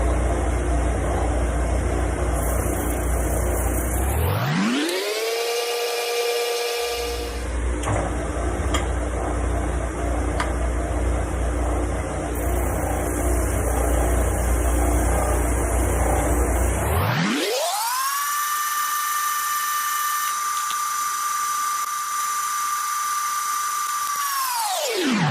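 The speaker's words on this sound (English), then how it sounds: "So now I'm going to take my sander here, my spindle sander, and I'm going to refine this." Spindle sander refining the edge of a wooden routing template for a headpiece, a steady high motor whine that spins up, drops off, then restarts and runs continuously, loud and close with no talk.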